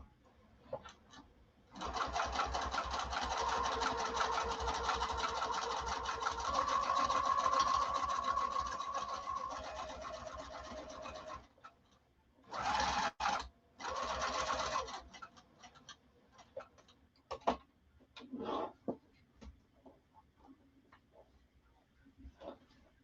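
A sewing machine stitches fabric in a long, steady, loud run of about ten seconds, stops, then resumes in a few short bursts separated by pauses.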